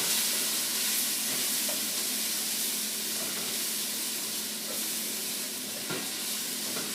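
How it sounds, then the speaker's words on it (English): Jalapenos and minced garlic sizzle steadily in a hot pan, a dense continuous frying hiss with occasional soft scrapes as they are stirred, close and loud. "jalapenos and the minced garlic. I'm going to stir that around."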